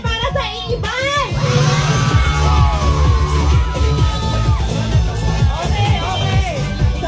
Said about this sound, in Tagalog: Isang sigawan para sa Iban!